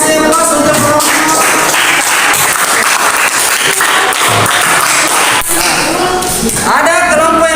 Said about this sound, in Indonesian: Oke, kasih aplaus untuk kelompok 4.